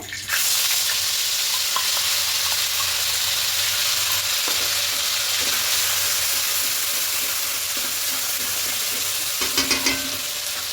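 Spice paste of poppy seed, melon seed, ginger and green chili frying in hot oil in a pan for a vegetarian potato-paneer dum, a steady loud sizzle with a brief stirring clatter near the end.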